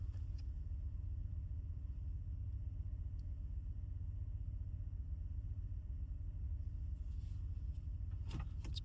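A 2025 Toyota Tundra TRD Pro creeping forward in four-low, a steady low engine rumble heard from inside the cabin with a few faint clicks near the end, no speech.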